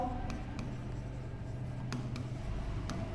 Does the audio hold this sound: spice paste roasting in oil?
no